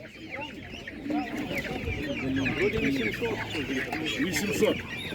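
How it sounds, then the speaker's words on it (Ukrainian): A Master Grey hen clucks at a bazaar, repeated close clucks and chicken calls over busy market background with people talking nearby. "ось така курка Master Grey"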